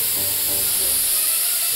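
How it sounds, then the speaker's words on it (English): An aerosol toilet spray can hisses in one steady, close burst lasting nearly two seconds, a bright airy spray with no voices over it. "I'll just give myself a spray."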